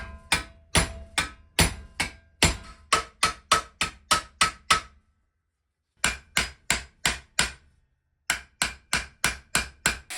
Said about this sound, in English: Then we used new rivets to join the pieces together again.